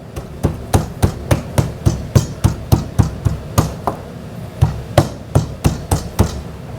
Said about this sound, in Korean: 뼈까지 칼이 들어가도록 충분히 하십시오